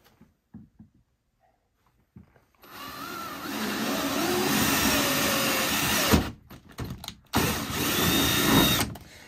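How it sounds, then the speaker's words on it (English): A Makita high-speed half-inch drill spins up after a quiet start and bores a hole with a loud steady whine, briefly stops and restarts in short bursts, then runs steadily again near the microphone. "We're going to use a half inch drill. This is a Makita high speed drill here."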